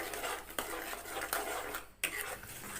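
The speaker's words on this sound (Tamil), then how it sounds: "சேர்த்துட்டு நல்லா கிளறிக்கோங்க." Pineapple jam is stirred with sugar in a pan as it begins to boil, giving a steady scraping and swishing with a few sharper knocks against the pan.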